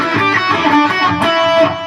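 Distorted electric guitar riff played in the higher octave, a steady sustained run of overdriven notes at close, even loudness with no talking.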